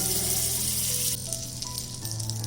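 A teaspoon of butter sizzling in a frying pan, a steady close hiss of frying that continues throughout with faint background tones.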